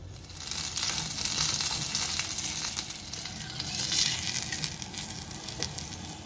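Pizza baati frying in a little ghee in a kadhai, a continuous close sizzle with crackling pops that swells and eases slightly, no one speaking.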